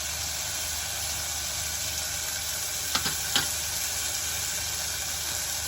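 Onion, tomato and chili sauté in a hot pan with a steady, even sizzle and a couple of faint scraping stirs partway through, and no voices.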